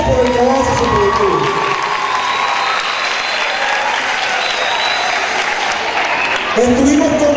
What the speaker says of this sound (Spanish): Un aplauso por el trabajo socioproductivo